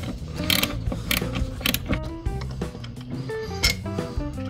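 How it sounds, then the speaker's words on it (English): Ratchet with a deep socket working valve cover bolts on a Ford Taurus OHV engine, close, loud mechanical clicking in uneven bursts mixed with metallic knocks and scraping. "You can just get a deep socket on there and it works just fine"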